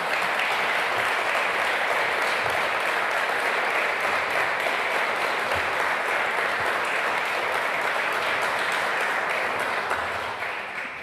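Sustained audience applause at a speech announcing an IMF agreement and the end of currency controls, dense and steady for about ten seconds before beginning to ease off at the end.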